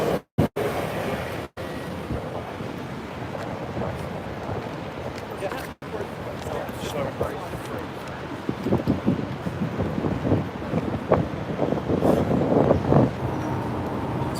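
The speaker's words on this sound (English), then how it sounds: "Very windy now." Strong wind buffeting a microphone outdoors in Hong Kong, a continuous rough roar with gusty surges, several abrupt dropouts, and a voice talking faintly beneath it.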